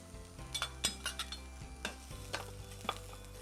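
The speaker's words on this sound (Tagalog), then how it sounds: "First, we have to dump your onion, okay? And you can combine it with your garlic." Onion and garlic stirred into hot avocado oil in an electric skillet, a low sizzle broken by several sharp scraping and clinking utensil strokes against the pan.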